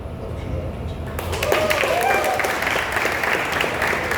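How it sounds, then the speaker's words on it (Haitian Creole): An audience at a ceremony breaks into loud, sustained applause that starts abruptly and keeps going, with crowd noise mixed in. "Je vous demande d'applaudir encore une fois très très fort Angelo Chimaniga Jr. et toute sa famille"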